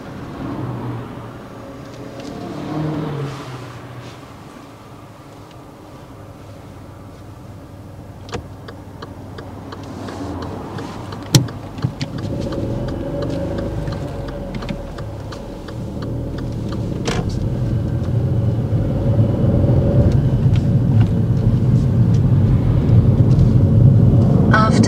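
A car moving off on a driving test, engine rumble building steadily into a louder, sustained drone with a few clicks and knocks along the way.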